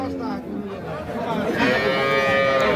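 A pregnant dairy cow, eight months along, lowing at a rural cattle market, one drawn-out moo rising over a low murmur of voices and background chatter.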